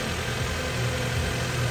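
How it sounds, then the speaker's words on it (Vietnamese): The fuel-injected 16-valve four-cylinder engine of a 2001 Toyota Camry idles with a smooth, steady, close hum and no voices. "Máy rất là êm anh chị ha."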